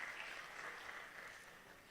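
An audience at a youth and African economic development talk event gives a round of applause, a steady wash of many hands clapping at moderate distance that fades slightly toward the end.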